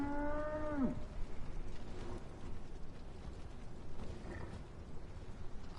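A single low, drawn-out ox moo from the video game Dragon's Dogma 2 sounds at the start, followed by quiet ambient noise with faint rustles.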